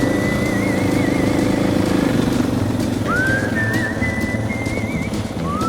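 A dual sport motorcycle engine drones loudly and continuously while riding on a rural trail, with a thin whistling tone weaving over the rumble.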